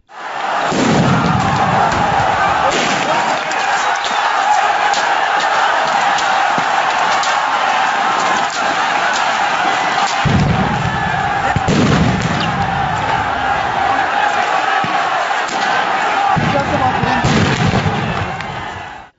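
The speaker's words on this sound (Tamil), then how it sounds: "போலீசார் ராம்பால் ஆதரவாளர்கள் மீது சரமாரி தடியடி நடத்தியதோடு கண்ணீர் புகை குண்டுகளையும் வெடித்தனர" Police clash with a crowd in Hisar, firing tear gas shells: repeated loud booming blasts and crowd roar fill the scene continuously, with sharp bursts recurring throughout.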